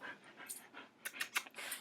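A puppy pants in short, quick breathy bursts, close and fairly quiet, with a few sharper huffs toward the end.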